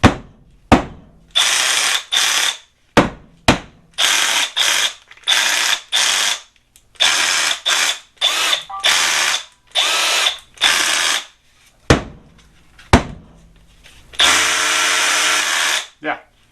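Milwaukee M12 Fuel SDS rotary hammer, repaired, running in repeated short bursts with a loud mechanical rattle, started and stopped many times close up, with a longer final run.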